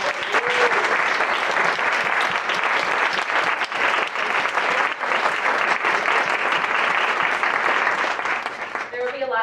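A large audience applauds the 2011 Gleitsman International Activist Award winner, Teresa Ulloa Ziáurriz, with dense, sustained clapping that stays loud and steady for about nine seconds and thins out slightly at the very end.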